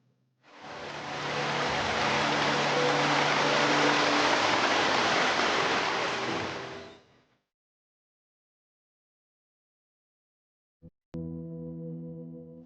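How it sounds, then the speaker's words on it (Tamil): Floodwater rushing over rain-submerged paddy fields near Tiruporur, Chengalpattu, a loud steady broadband wash lasting several seconds, then silence and a brief low tonal hum at the end. "தண்ணி 10 நாளாக போய்க்குதுங்க."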